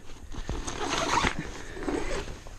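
A backpack compartment zipper is drawn open in one continuous, close rasping pull lasting a couple of seconds, with light rustling of the bag around it and no voices.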